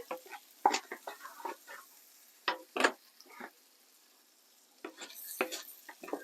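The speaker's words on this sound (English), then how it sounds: "you want to saute this for about 4 minutes, just till it's nice and golden" Potatoes sizzle quietly in a hot wok while a utensil scrapes and stirs in short, irregular strokes close by.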